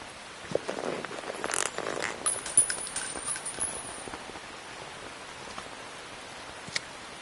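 Rain falls in Metal Gear Solid 3: Snake Eater as a steady, soft hiss dotted with scattered patters and clicks, somewhat louder early on and then quieter, with no voices.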